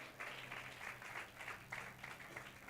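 Applause from a congregation at a religious gathering, a faint, distant patter of clapping hands sustained for a few seconds with no speech over it.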